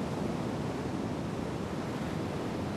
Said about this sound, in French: Les déferlantes s'y épuisent à tâcher de grignoter quelques arpents de ces hectares neufs que le volcan